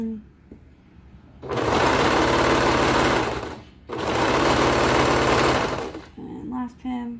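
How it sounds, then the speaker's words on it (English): A serger sews the sleeve cuff of a slouchy cardigan in two long, loud, continuous whirring bursts. There is a brief pause between them, and quiet moments with a little talking come before and after. "I'm gonna go ahead and stick this into the serger"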